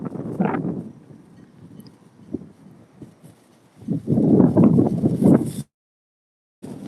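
Gusty wind buffets the microphone outdoors in low, rumbling bursts, strongest near the start and again toward the end before cutting out abruptly.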